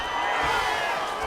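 A virtual arena crowd cheers in a PS5 UFC fight as the fighters return to their feet after a long grappling exchange, producing a short, dense roar of noise.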